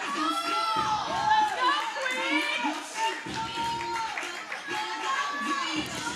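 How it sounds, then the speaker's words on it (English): A group of girls yelling and cheering on a woman lifting 176 pounds at a USA Powerlifting meet in Indiana, excited overlapping voices with claps in a crowded room. "You can hear the girls over here just yelling, cheering her on the side"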